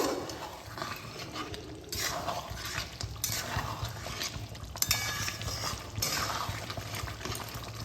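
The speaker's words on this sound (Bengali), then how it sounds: "এই পোস্তটা এর সঙ্গে এর মধ্যে দিয়ে দেবো ভালোভাবে মিশিয়ে নেব" A spoon stirs ground poppy seed paste into simmering chicken in a pot, with scraping and wet mixing strokes that come in irregular bursts, close and moderately loud.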